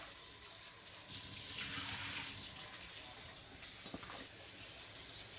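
Tap water runs steadily into a bowl holding soaked eggplants, a continuous hissing splash close by with a slight change in flow partway through, and no talk over it.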